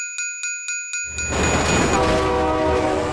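A train passing in the video game BeamNG Drive: a loud, repeating horn blasts about five times in even rhythm, then gives way to a heavy, roaring rumble of railcars rushing close by.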